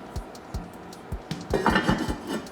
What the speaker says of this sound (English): I'm going to go ahead and put the lid on